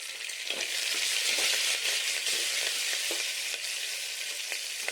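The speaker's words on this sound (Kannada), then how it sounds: "ಈರುಳ್ಳಿಯನ್ನ ಕಂದು ಬಣ್ಣ ಬರೋವರೆಗೂ ಹುರಿದುಕೊಳ್ಬೇಕಾಗತ್ತೆ" Chopped onions frying in oil with mustard seeds and curry leaves in a pot, a loud, even sizzle with occasional stirring scrapes and no voices.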